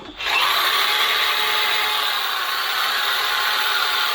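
A DeWalt cordless drill starts up and runs at a steady, loud, high whine for several seconds without pausing.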